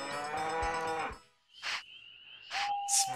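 Video game cows on a farm give a long, drawn-out moo followed by short electronic chimes and blips, then a second tonal cattle call, all clean and loud with no voices.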